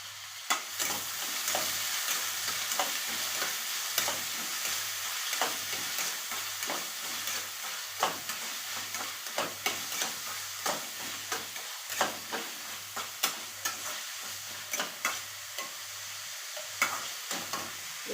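Chopped onions frying for a ridge gourd curry, a bright continuous sizzle broken by regular scraping stirs of a spatula against the pan, close and steady with a low hum beneath.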